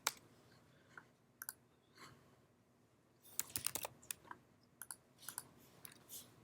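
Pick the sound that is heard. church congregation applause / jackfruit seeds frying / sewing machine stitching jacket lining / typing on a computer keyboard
typing on a computer keyboard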